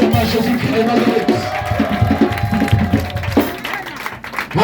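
A church congregation cheering and clapping during a service, a dense, loud crowd roar of voices and applause, with a sustained voice rising above the mass.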